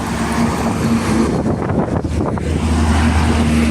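A convoy of three Hino trucks, including a Hino Ranger single-axle and a Hino wing box, roars past close by in a loud, continuous engine rumble.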